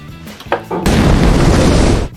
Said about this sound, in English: a grenade that could cause a small explosion with a toss